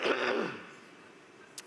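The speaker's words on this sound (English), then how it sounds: "I also want to clear my throat." A single short throat clearing, fairly close and alone, followed by quiet and a faint brief click near the end.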